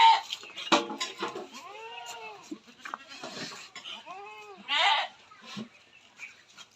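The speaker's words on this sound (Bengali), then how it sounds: "খাবার দেওয়া হবে এখন, এই কারণে একটু করছে ছাগলগুলো" Goats on a farm bleat before feeding. Several loud, wavering, close calls come one after another, with some background noise between them.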